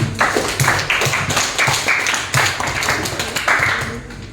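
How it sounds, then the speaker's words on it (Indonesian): A small group claps along in a classroom, sharp rhythmic handclaps repeating steadily and fairly close for several seconds. "Kita berikan aplaus dulu"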